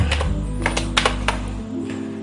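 Computer keyboard keys are pressed while working in CorelDRAW: a handful of separate, crisp taps and clicks, close and moderately loud, over a steady low electrical hum.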